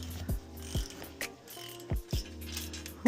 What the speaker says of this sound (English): I'll put the castle nut back on here.